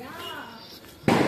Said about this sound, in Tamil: நம்ம ஆட்டம் பாம் வச்சோம்.